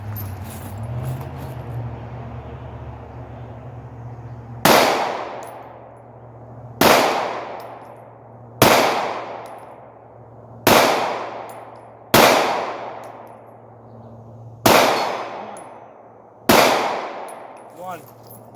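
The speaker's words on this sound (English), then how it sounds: "so let's shoot the Glock 43, right?" Seven Glock 43 pistol shots fired at a target 50 yards away, each a sharp loud crack with a ringing decay, spaced about two seconds apart after a low hum at the start.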